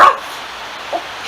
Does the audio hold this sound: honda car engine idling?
no